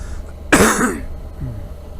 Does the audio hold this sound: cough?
yes